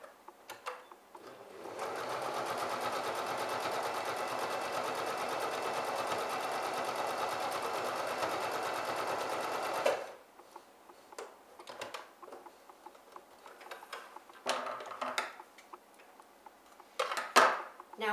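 A sewing machine stitches a chair slipcover in one steady, continuous run of about eight seconds, then stops, leaving quieter handling clicks and rustles of fabric.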